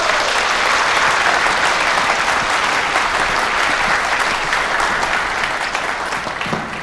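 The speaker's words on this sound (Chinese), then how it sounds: "下面就让我们用掌声欢迎陆教授。" An audience in a lecture hall applauds steadily to welcome a professor, a dense loud wash of clapping sustained for several seconds before easing slightly at the end.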